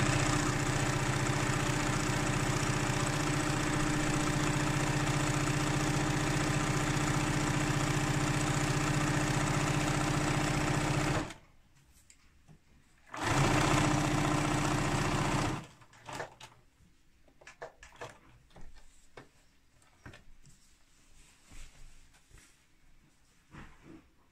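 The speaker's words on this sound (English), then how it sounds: "put your presser foot back down again, and then you carry on" A sewing machine stitches a drawstring scrub wash bag with a loud, steady motor whir for about eleven seconds. It stops, runs again in a short burst, then gives way to quiet handling clicks.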